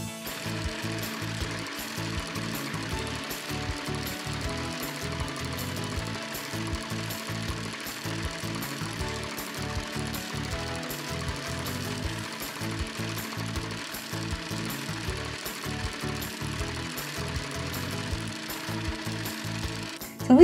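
Cool Maker toy sewing machine stitching two aligned felt pieces together, a steady fast mechanical clatter with rapid regular ticks running continuously, with no talking.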